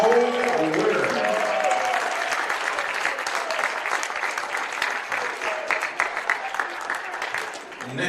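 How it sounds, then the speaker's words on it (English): Crowd applause at a women's college basketball game rises loudly for a player introduction and holds steady, thinning slightly toward the end, with voices mixed in. "Fans, please give a big round of applause for number 33, Cole Witter."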